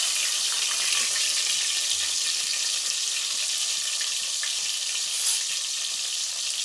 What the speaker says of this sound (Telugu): ఇప్పుడు మనకి ఆయిల్ కాగుతుంది కదా, ఉల్లిగడ్డలు వేసుకుందాం.